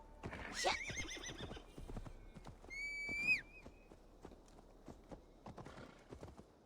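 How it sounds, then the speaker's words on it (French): A horse in Assassin's Creed Valhalla walks with steady clip-clop hoofbeats, snorts and gives a sharp whinny partway through, all fairly faint. "J'ai récupéré mon cheval, let's go."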